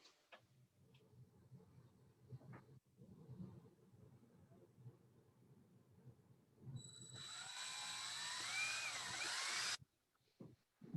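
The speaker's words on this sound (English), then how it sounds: "everybody's jealous because they hear that drill" A handheld power drill whirs steadily for about three seconds in an indoor room during a rocket-building workshop, loud and close, following quieter background murmur and handling noise before it cuts off.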